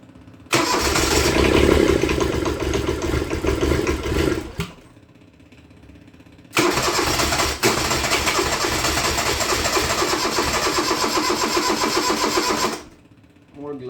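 A Kubota 662 diesel with glow plugs cranks and catches twice, each run a loud, rough mid-pitched engine clatter lasting several seconds before cutting off into near silence.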